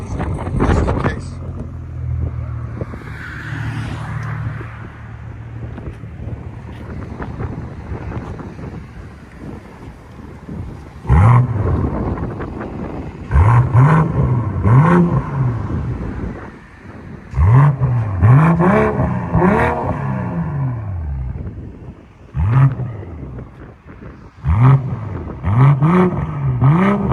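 A BMW M340 3.0L turbo with a Dinan cat-back exhaust revs in repeated short, rising blips that grow louder after a windy, breathy opening, with brief gaps between each burst.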